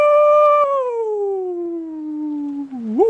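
A voice imitates a long wolf-like howl at the moon, one sustained falling wail held for about three seconds, close and clear, ending in a short upward yelp.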